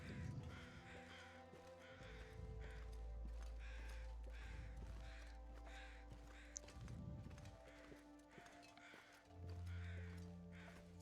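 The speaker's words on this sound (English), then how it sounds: "the crows in this game have one job" Crows caw repeatedly in The Long Dark's wintry wilderness, a series of harsh calls in regular bursts over a low, steady ambient drone with no talk.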